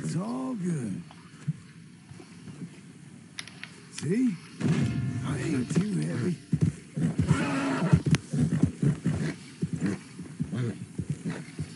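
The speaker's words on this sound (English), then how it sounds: "Nice, the Appaloosa." Appaloosa stallion in Red Dead Redemption 2 gives a rising whinny at the start and a shorter neigh midway, with snorts, hoof movement and someone talking calmly over it.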